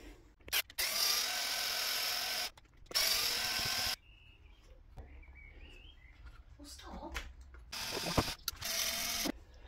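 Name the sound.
removing screws from RC car centre differential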